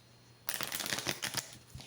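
Tarot cards being shuffled by hand, a close, crisp riffling burst of papery flutters lasting over a second, with a faint tap at the end and no talking.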